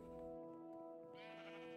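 Sheep in the Minecraft video game, a single quavering bleat heard clearly and alone, with a bright game-style tone.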